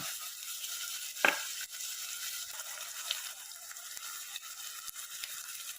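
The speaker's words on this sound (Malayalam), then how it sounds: "കറിവേപ്പില ഇട്ട് കൊടുത്തു" Curry leaves dropped into hot oil for a sardine curry give a soft, steady sizzle with a brief crackling flare near the start, faint and close, with no talking.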